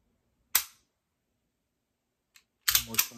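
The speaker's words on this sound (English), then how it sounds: "Pull the trigger." A CZ pistol's trigger is dry-fired with one sharp, close click, then after a quiet pause comes a louder cluster of clicks as the trigger resets and is pulled again.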